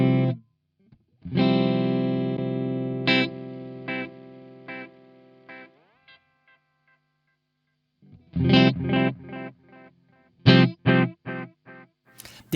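An electric guitar on its single-coil pickup plays through heavy distortion, with long sustained chords fading out, a pause of near silence, then short choppy stabs, and background hiss throughout.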